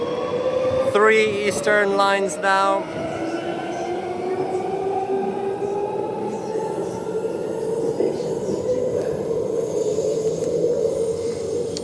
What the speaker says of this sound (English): Ellenbrook Line train just departing platform 2